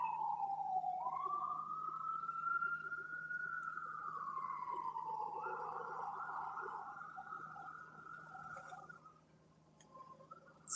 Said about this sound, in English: There was an ambulance going by my window.